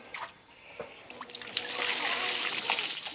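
Shower water in Cambodia, starting with scattered drips and splashes, then a steadier spray of running water building up and continuing close by.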